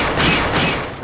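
Gunfire in the 2005 game Resident Evil 4, aimed at enemy helmets: a dense, loud burst of sharp overlapping shots with booming impacts, peaking in two surges across about a second, with no talk.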